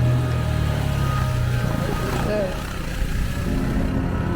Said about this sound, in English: In other places, the bike was swimming through the flood inside the bush.